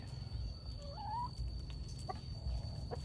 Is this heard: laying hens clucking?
yes